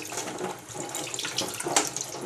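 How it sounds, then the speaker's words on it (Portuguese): Tap water runs steadily over bacon in a kitchen sink while preparing feijoada, a continuous close splashing rush with slight changes as the meat is turned under the stream. "Eu vou dar uma passada de água também no bacon."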